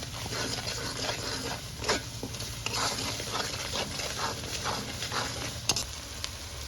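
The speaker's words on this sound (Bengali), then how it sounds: "এখন সব মশলাটি দিয়ে ভালো মতন কষাইতে হইবে" Ground spices with chilli powder, salt, coriander powder and whole green chillies sizzle steadily in a pan for a fish and green banana curry, with repeated scraping stirs over a constant low frying hiss.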